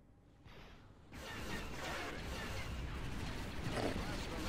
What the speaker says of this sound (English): I heard a loud explosion as if we took out a structure.